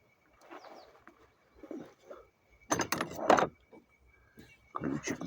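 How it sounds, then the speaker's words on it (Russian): A metal 14 mm wrench clinks and jangles in bursts while being handled during an oil change on a Toyota Corolla 120, with a few sharper metallic rattles near the middle and end, close by. "Ключик на 14."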